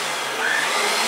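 A Bosch stand mixer runs steadily while mixing fresh-ground wheat bread dough, giving a loud continuous motor whir and hiss with no pauses and no voices over it.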